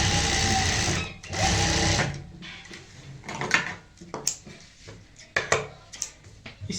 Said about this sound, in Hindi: इनके ऊपर हम डबल सिलाई कर लेते हैं